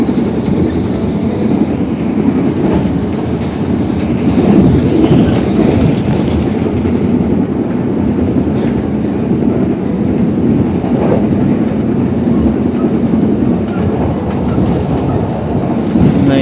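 A passenger train running past Telaga Sari station, heard from on board as a loud, steady rumble with rhythmic clickety-clack of wheels on rail joints throughout.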